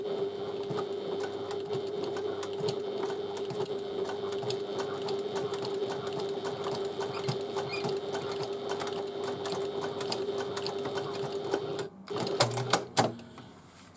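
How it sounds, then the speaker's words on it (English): Sewing machine stitching steadily through several layers of vinyl for a bag, a close continuous hum with fine needle ticks, stopping near the end before a few louder knocks and handling sounds. "if your machine can stitch through 3 layers or 6 layers basically of vinyl"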